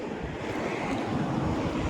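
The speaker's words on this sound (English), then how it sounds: "It's a windy one." Steady, loud wind roar fills the whole span, blending with a broad wash like surf on open water at Subic Bay, Philippines, with no talking.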